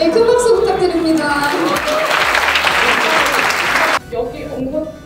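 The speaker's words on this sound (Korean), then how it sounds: "큰 박수 부탁드립니다" Loud applause fills a hall at a company New Year ceremony, a dense burst of clapping that stops abruptly, followed by voices over the room.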